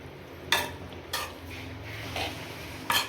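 A spoon scrapes and clinks against a pot while prawn biryani rice is stirred gently, a few sharp, separate strokes over a steady low background.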